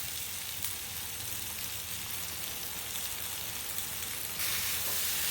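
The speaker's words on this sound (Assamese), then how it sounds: "আৰু 5 সেকেন্ডমান লৰাই আমাৰ আলু ফ্ৰাই হৈ যাব" Boiled potatoes cut into large pieces fry in a pan with spices, giving a steady close sizzle and crackle that runs the whole time and grows brighter near the end, with no talking.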